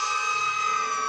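A steady, continuous electronic siren of the Siren Cop character in the Roblox video game, holding a loud, unbroken pitch alone with no talking for the whole short stretch.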